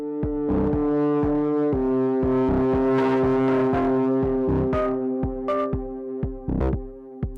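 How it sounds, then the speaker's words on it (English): Fuzzy, rough crunch distortion from an Elektron Analog Heat processing a synth line, with sustained droning notes and punchy repeated hits running loud and continuous throughout, no talking. "Definitely more of like a fuzz sound."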